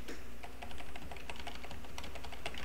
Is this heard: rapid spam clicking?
yes